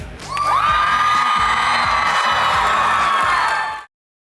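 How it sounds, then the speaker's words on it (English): A large crowd screams and cheers loudly for a few seconds, high excited voices swelling together before cutting off abruptly. "Let me hear you scream."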